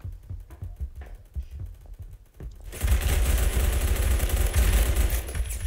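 Assault rifle fire in Phantom Forces: distant single shots and short bursts at first, then a sustained, loud, dense automatic barrage close by that continues to the end, with no talking.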